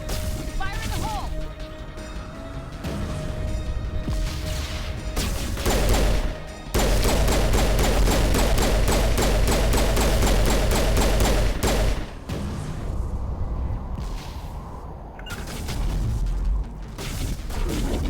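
Game combat from Mass Effect with a grenade going off, a dense burst of blasts and clattering debris among steady gunfire, loud and continuous with brief drops, a voice speaking over the action.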